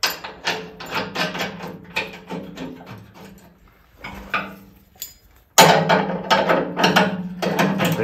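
A nut is tightened onto a bolt with a lock washer while fitting a Piranha tooth bar to a Kioti CK2610 tractor loader, heard as repeated metallic ratcheting clicks in bursts, close and moderately loud, with a brief pause midway.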